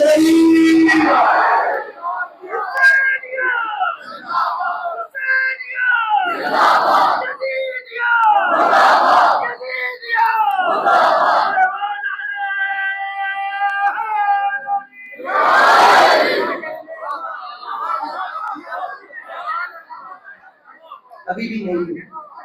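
A large crowd at a majlis gathering in an imambargah in Jhelum loudly chants slogans in repeated bursts, each rising to a shout and then dropping back, with a single voice leading between the chants.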